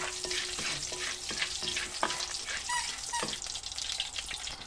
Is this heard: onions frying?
yes